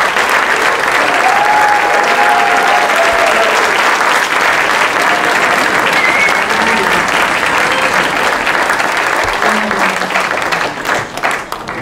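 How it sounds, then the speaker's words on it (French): Festival-opening audience applauding steadily and fairly loudly for nearly twelve seconds, a dense wash of clapping with a few faint voices, thinning slightly at the very end. "le cœur, l'âme de ce festival que je vous demande d'applaudir"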